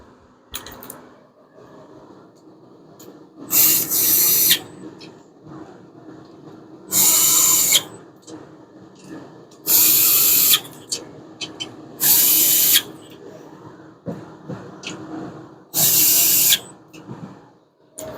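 Power tool spinning in the head bolts on a 5.7 Hemi engine head in a Plymouth Duster, heard as five loud whirring bursts of about a second each, separated by quieter shop noise and low background talk.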